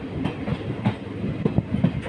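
An almost empty passenger train with sleeper and general coaches runs on rails through the Western Ghats, giving a steady rumble with rhythmic clickety-clack wheel beats nearby.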